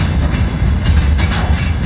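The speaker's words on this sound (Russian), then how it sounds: "Товарный состав следует по железнодорожным путям." A freight train passes along railway tracks in spring, a loud, steady roar of wheels with a rhythmic clickety-clack from the wagons, close by and continuous.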